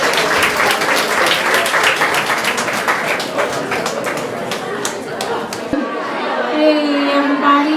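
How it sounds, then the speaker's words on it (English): Loud, close applause from a crowd at a women-in-tech evening event, sharp individual claps over a dense wash of clapping, then tapering into crowd chatter and voices as it fades. "Another round of applause for Amanda Steinberg."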